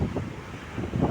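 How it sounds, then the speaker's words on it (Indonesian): Strong wind on the coast at a fishing harbor, a steady roaring gust buffeting the microphone with a rumble of surf, loud and continuous with no voices. "cuman angin masih kencang"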